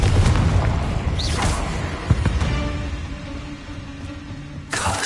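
Confringo spell blasts in the video game Hogwarts Legacy produce loud, close booming impacts with whooshing swishes and cracks layered over low rumbling game ambience, ending in a fresh burst.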